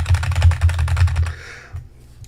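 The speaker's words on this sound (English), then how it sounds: "Click clacks on your keyboard sound really good." Rapid clicky typing on a computer keyboard, close and loud, with a quick run of keystrokes that stops after about a second and a half, leaving a few faint taps.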